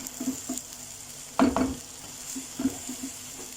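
Dark soy sauce being stirred into chicken schezwan fried rice in a hot pan: a soft steady sizzle under a few scraping stirs, with a louder burst of spatula strokes in the middle.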